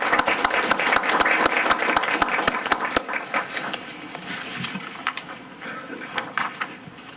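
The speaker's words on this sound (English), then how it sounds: "So I ask that you support by giving these two employees a round of applause." Round of applause at a county board of commissioners meeting honoring two employees, brisk clapping from a modest room that thins out toward the end.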